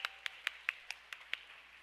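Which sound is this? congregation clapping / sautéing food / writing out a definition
congregation clapping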